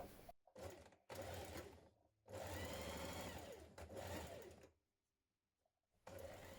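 A domestic sewing machine stitches back skirt panels in several short runs of rapid, whirring mechanical chatter, close and fairly quiet, separated by silent pauses.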